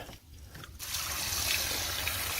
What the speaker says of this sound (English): get that pulled, and that should drain pretty good there.